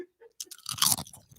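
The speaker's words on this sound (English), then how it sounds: "Nothing like the sound of crunching." Close, loud crunching and chewing of a crisp ghost pepper snack, with a few bites crackling in quick succession, no talking.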